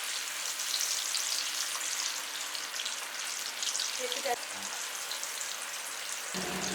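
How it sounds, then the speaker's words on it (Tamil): Kadalai (chickpeas) deep-frying in hot oil until light golden, a dense continuous crackling sizzle with a brief clink of a utensil near the end, no speech. "நமக்கு லைட் பொன்னிறமாக வர அளவுக்கு பொரித்து எடுத்துக்கலாம்."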